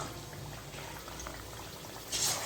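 Marinated chicken pieces fry in hot oil for a Sunday chicken pot biryani, giving a steady, moderately loud bubbling sizzle with a brief louder burst near the end and no talking.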